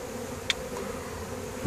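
A newly caught honeybee swarm being hived in a five-frame nucleus box gives off a faint, steady buzz close by, with a single brief louder bee passing the microphone.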